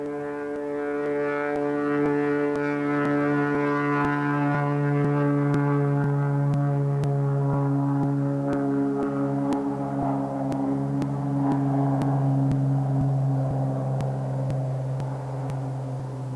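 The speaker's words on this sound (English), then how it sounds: "Now let's see what that takeoff looked like from the ground." An agricultural aircraft takes off, heard from the ground as a loud, steady engine drone with a strong harmonic hum that swells and holds across the whole stretch.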